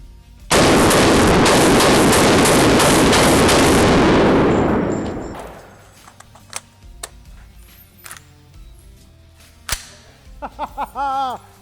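A rapid, loud string of shots from an IWI Carmel 5.56 semi-automatic rifle at a range, ending abruptly, followed by quieter scattered clatter and one more distant crack.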